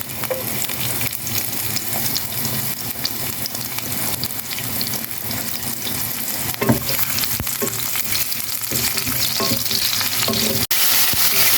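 Onions dropped into a hot kawali for ginisang gulay, a loud close sizzle and crackle of frying that stays dense and steady, with occasional stirring knocks and no talk.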